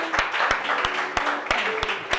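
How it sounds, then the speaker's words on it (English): An audience at a spoken word poetry event claps in a round of applause, a steady broadband patter punctuated by several sharp, louder individual claps close by. "Round of applause."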